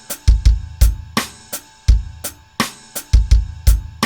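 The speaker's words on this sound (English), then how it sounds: "The drums dry actually sound like this." A dry programmed drum beat in which the snare is replaced by a rim shot plays punchy kick hits and sharp rim clicks in a steady groove, loud and unprocessed, with no voices.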